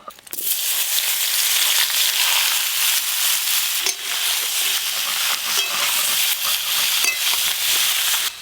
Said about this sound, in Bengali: সেদ্ধ করে রাখা আলু আর এঁচোড় একটু ভালো করে ভেজে নেব।